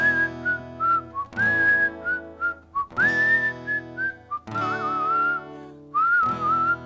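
A single person whistles a melody alone, in clear sustained phrases broken by short pauses for breath, close and steady in loudness.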